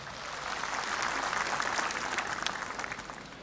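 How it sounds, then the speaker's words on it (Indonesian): Loud, steady applause from the audience at the third NasDem Party congress, a dense wash of clapping that swells and holds for the whole stretch with no voices over it. "Tepuk tangan yang meriah hadirin sekalian."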